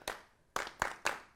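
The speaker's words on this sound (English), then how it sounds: "Listen, clap it again." A few students in a high school classroom clap out the syllables of a word, four sharp separate claps with an uneven beat and short gaps between them, fairly quiet and close.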